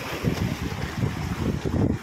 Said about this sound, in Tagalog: Mahangin siya, masarap ayun.